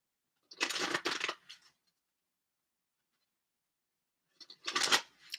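Tarot cards from a Wisdom of Avalon deck are shuffled in two short bursts of riffling flutter, close and crisp, separated by a few seconds of silence.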